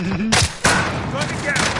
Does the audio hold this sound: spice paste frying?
no